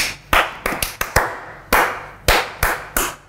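On an Indonesian talk show, sharp, close hand claps ring out one by one in an uneven rhythm, about ten distinct claps with short pauses between them.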